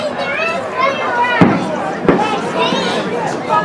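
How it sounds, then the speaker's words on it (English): Fireworks bursting near a high school football game, two sharp bangs standing out over steady crowd chatter and cheering, with people talking throughout. "Oh, can we get a shot of the fireworks over there?"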